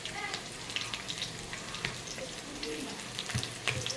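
Chopped onion and ginger garlic paste fry in a pan with a dense, crackling sizzle and a scatter of sharp pops and light spatula taps. No voices.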